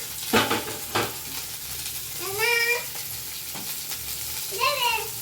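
Chopped potatoes and greens go into a hot pan with a soft sizzle and a few stirring clatters, while a cat meows twice nearby over the cooking noise.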